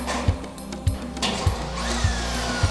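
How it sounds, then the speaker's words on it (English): A power drill drives #8 wafer head framing screws through a ProX clip into the jamb studs of a rough opening, with five sharp evenly spaced bursts close by and a steady motor whine between them. "install the ProX clip using 4 number 8 wafer head framing screws"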